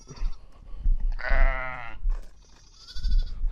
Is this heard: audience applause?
no